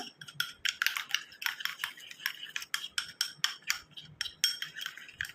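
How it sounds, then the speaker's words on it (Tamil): Rhythmic scraping and clicking of a utensil stirring a thick toothpaste face-pack mixture in a bowl, steady strokes close by. "நல்லா மிக்ஸ் பண்ணி விட்டுருங்க"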